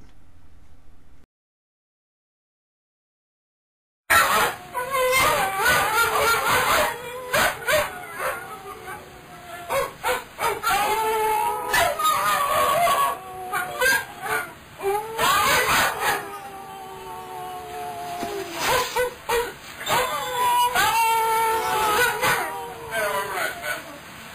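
Two people and two dogs howl together like wolves, long rising and falling wavering howls in repeated bursts, the dogs yipping and whining along, loud and close after a short silence at the start.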